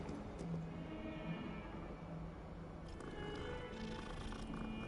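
A cat in the video game Hogwarts Legacy gives soft, low purring and murmuring sounds, steady and close, set against a faint game background with no talking.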